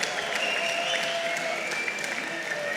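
A live arena crowd at the IEM Cologne Major 2026 esports event, during the Vitality vs. MOUZ Stage 3 match, roars and cheers in a steady, dense wash of noise that fills the space without letup.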